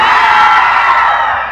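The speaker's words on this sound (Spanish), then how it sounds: "¿Cómo grita mi gente de este lado?" Crowd at a live DJ show in San Felipe Zihualtepec, Oaxaca, roaring and cheering loudly as one sustained burst that fades slightly at the end.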